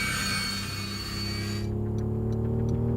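A broken modded car engine in a driving video game drones with a steady, plane-like whine and hum that shifts midway, loud and continuous with no talk.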